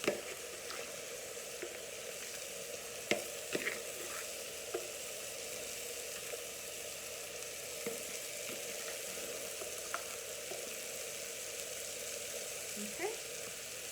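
A pot of Caribbean black soup with cabbage cooking on the stove, giving a steady low bubbling and sizzling simmer with occasional soft pops and clinks, fairly quiet and continuous with no talking.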